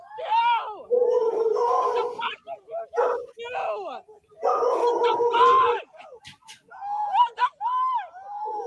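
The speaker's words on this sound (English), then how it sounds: "it sounds like your dog was barking on the scene" A dog barks during a podcast conversation, short sharp yaps scattered among overlapping voices and mostly buried under steady talk.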